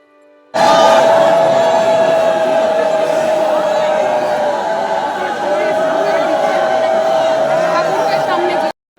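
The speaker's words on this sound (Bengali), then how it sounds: "এই যে উলুধ্বনির আওয়াজ, এই ক্রাউডটা" A packed crowd at the Boro Maa temple in Naihati ululates in a loud, continuous, warbling chorus that holds steady for several seconds over the murmur of the throng, close and intense.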